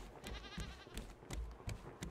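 Goat bleating in the survival game Raft, a series of short wavering bleats repeating at a fairly quick pace, close and clear over a light background of game ambience.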